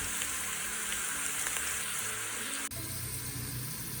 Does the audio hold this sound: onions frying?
yes